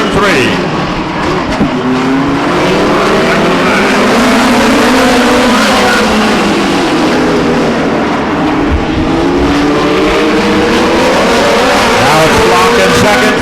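Race cars circle the Stockton 99 Speedway oval in a loud, continuous roar, engine pitch rising and falling through the turns as a commentator talks over them throughout.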